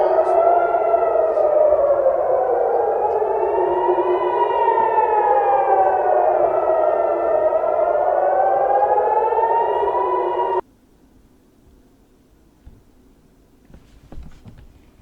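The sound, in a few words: civil defense air raid siren in Israel after missile attack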